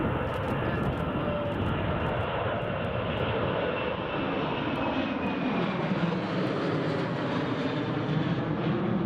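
An Emirates airliner at Newcastle Airport, cleared off runway 07 in a gusty crosswind, rumbles steadily for the whole stretch, a broad loud engine roar that holds constant and slowly shifts in tone, with no talk over it.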